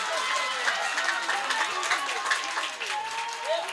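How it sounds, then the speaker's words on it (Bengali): Steady applause from a devotional kirtan audience at a Ram Navami gathering, dense and continuous clapping filling the whole stretch at moderate loudness with no pause. "আচ্ছা এবার দেখি কতজনের হাতে তালি পড়ে।"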